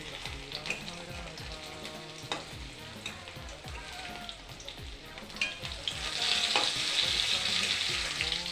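Cauliflower fritters coated in gram flour batter frying in hot oil, a steady dense sizzle with intermittent scraping stirs, growing louder and more bubbly toward the end.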